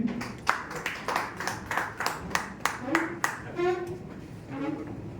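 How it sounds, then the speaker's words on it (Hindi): Scattered audience clapping at an Agra JDA farewell ceremony, a handful of sharp claps spreading out unevenly, with someone speaking over them. "आदरणीय सर्वेश जी, ताली स्वागत करेंगे।"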